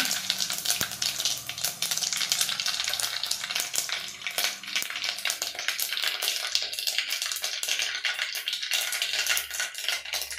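Cumin and mustard seeds sizzling in hot oil, a dense steady crackle and hiss that keeps up without a break, with small pops scattered through it and no voices.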